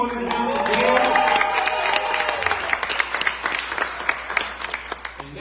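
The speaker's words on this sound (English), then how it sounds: "Clap it up for DJ TT" Enthusiastic crowd at a book launch event cheering and clapping for a DJ, loud at first with shouts on top, then thinning into scattered claps toward the end.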